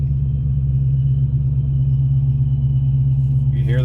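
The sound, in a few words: supercharger whistle of Ford Mustang Shelby Eleanor engine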